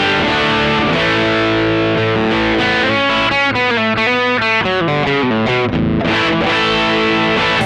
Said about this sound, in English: I have the gain pushed on the dirty channel